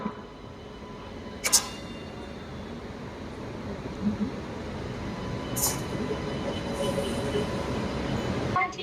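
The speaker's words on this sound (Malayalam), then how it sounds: "തൂത്തുക്കുടി എക്സ്പ്രസിനെ കപ്പിൾ ചെയ്യാനുള്ള സാരഥി ഇതാ വന്നുകൊണ്ടിരിക്കുകയാണേ" A WP7 diesel locomotive from Erode shed approaching to couple to the Tuticorin Express at Mettupalayam station, a low continuous rumble with a couple of short hissing brake releases and clanks over station noise.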